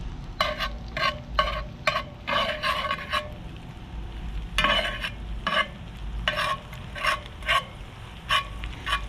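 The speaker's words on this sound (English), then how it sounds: "And you just want to roll that garlic around until you start to smell the caramelization" Garlic paste sizzles in a hot pan while being stirred, a series of sharp scraping, spattering bursts in an uneven rhythm, close and alone over a low background hiss.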